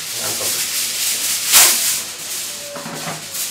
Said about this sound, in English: Just take this aluminium foil and seal the handi properly.